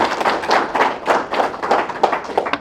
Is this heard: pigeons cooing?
no